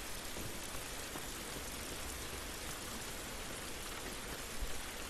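Steady rain falls in The Last of Us video game, a dense, even hiss of drops spattering on surfaces that continues unbroken at a moderate, close level with no talking.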